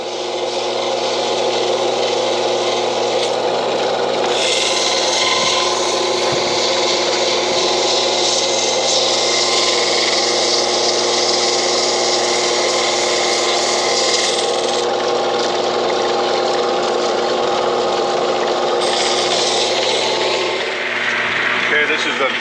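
Datolite rock from the Keweenaw in Michigan being polished with 50,000 grit diamond: a loud, close, steady rubbing grind that runs unbroken throughout, shifting slightly in tone partway through.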